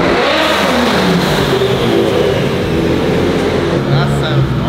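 Audi A5 fitted with a rear-mounted radiator, engine revving hard and steady at close range, loud and continuous, with a voice speaking over it.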